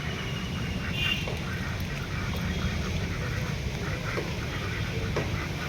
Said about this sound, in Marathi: मी आलो आहे खाली आणि ही बदकं बघू शकता तुम्ही